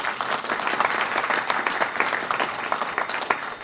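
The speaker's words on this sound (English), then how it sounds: "so let's give him one more round of applause," An audience applauds at a public stamp-unveiling event, a steady burst of many hands clapping close and loud throughout without a break.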